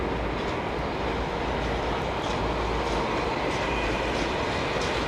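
Wash from an Airbus A330 jet passing near London Heathrow Airport, a steady, loud broadband roar that holds evenly throughout without pause.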